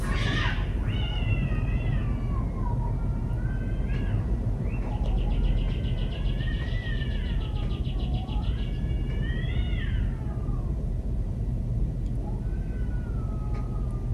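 A cat meows repeatedly in drawn-out, wavering cries, some long and wailing, over a steady low background hum; no one speaks.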